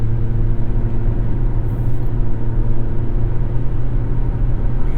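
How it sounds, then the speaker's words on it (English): Inside a 2022 Toyota Corolla Cross, its 2-liter engine and CVT labor up a highway hill at about 70 mph. A constant low cabin drone and road rumble hold steady without pause. "Hear this little 2-liter and the CVT working away, getting up this hill"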